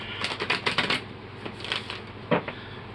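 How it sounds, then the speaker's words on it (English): Tarot cards shuffled by hand close by: a quick run of papery riffling flicks, a short pause, then a few softer shuffles and one last crisp snap, with no talking. "I do feel like I need to shuffle your cards."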